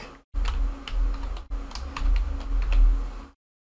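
Steady keystrokes on a computer keyboard as an action name is typed, a quick close clatter of key presses with a short pause partway through before the typing stops.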